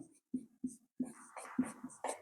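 Pen strokes scratch across paper while a maths solution is written out, coming in short separate bursts with brief pauses between them, close and fairly quiet, with no talking.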